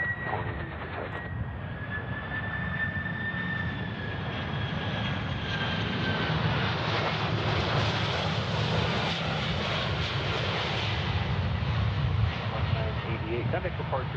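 An airliner arriving from Miami at Memphis International Airport produces a loud jet engine roar that builds and holds steady, with a high whine fading early and voices talking in the background.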